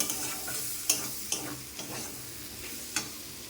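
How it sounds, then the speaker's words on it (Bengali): Ghugni masala with ginger-garlic paste sizzles in a pan while a spoon scrapes and stirs, giving a soft, steady fry hiss broken by several sharp scraping strokes. "একটু ভালো করে কষিয়ে নেব।"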